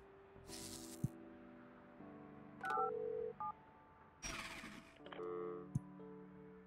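Telephone dialing tones from the building-management video game Project Highrise: a run of short electronic tone bursts and beeps in several separate segments, clear and alone with no talking.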